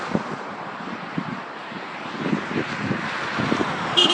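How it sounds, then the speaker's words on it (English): Strong storm wind blowing in Sydney, Nova Scotia on a November day, heard as a steady rushing roar with low gusty buffeting against the microphone that grows a little stronger toward the end, with no voices. "Right now, winds picking up."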